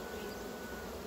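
Honeybees from a red-queen colony drone steadily at their hive in an apiary. The buzzing is close, dense and continuous, with no pauses or voices.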